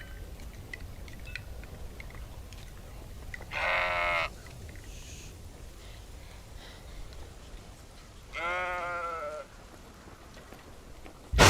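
A sheep bleats twice in a French-language film, two wavering cries several seconds apart over a steady outdoor background hiss.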